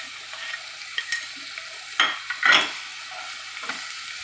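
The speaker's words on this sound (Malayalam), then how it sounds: "സവാള ഉപ്പ് ചേർത്ത് വഴറ്റുകയാണെങ്കിൽ പെട്ടെന്ന് നന്നായിട്ട് വഴറ്റുന്ന കിട്ടും." Onions sautéing with salt in a pan for a Kerala-style curd curry, a soft steady sizzle broken by a few louder scraping stirs of a spoon, close and otherwise quiet.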